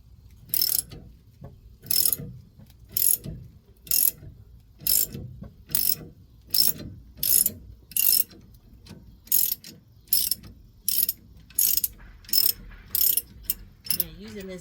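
Ratchet wrench clicking in short repeated bursts while tightening a Matco ball joint press, roughly a dozen crisp ratcheting runs with brief pauses between, close and clear.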